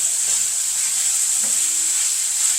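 Chopped chicken sausage and peppers sizzle steadily in a pan as a broad, even hiss while being stirred, with faint scraping from the stirring.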